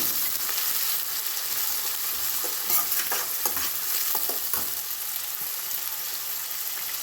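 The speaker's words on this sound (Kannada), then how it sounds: "ಈಗ ಆನಿಯನ್ನು ಗ್ರೀನ್ ಚಿಲ್ಲಿ ಹಾಕೊಂಡು ಚೆನ್ನಾಗಿ ಫ್ರೈ ಮಾಡ್ಕೋಬೇಕು" Onion and green chili frying in a pan for vegetable upma, stirred with a spatula: a constant close hiss of sizzling oil broken by a run of sharp scraping clicks midway, with no voices.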